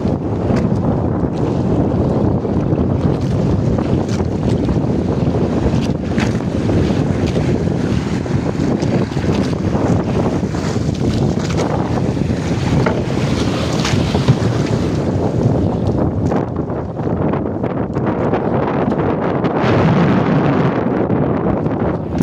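Sea waves and steady wind heard from aboard a boat on open water with whitecaps, a continuous loud wash and roar with wind buffeting the microphone throughout and no talking.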